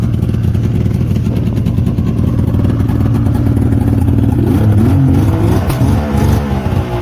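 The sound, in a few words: Yamaha SX Venom snowmobile engine running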